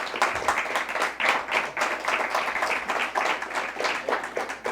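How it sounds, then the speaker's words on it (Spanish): A church congregation at a Christian service claps together in a steady, even burst of applause lasting several seconds, fairly close and moderately loud. "Dele un aplauso al Señor,"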